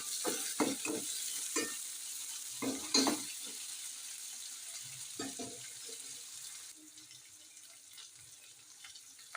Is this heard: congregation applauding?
no